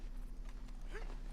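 Horse hooves clip-clopping in the Red Dead Redemption 2 open-world video game, a steady run of hoof falls under a continuous low game rumble.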